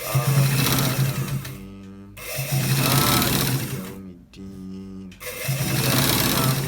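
An electric sewing machine runs in long, fast, steady stitching bursts while sewing a shirt, close and loud, broken by two short pauses where someone speaks.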